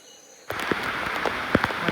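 Rain falling in the Goualougo Triangle forest: a sudden, steady hiss of rainfall with scattered louder drops pattering close by.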